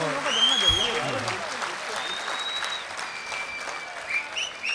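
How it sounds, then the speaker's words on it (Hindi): Audience applause at a mushaira poetry gathering in Dubai, a moderate, diffuse patter of clapping from a seated crowd that continues at an even level, with voices heard over it. "एक बार जोरदार तालियां राजेश रेड्डी साहब के लिए,"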